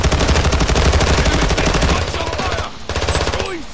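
Hip-fire from a gun in a Call of Duty match: loud, rapid automatic bursts hammer continuously for about two seconds, then thin into scattered shots and distant gunfire over the battle noise.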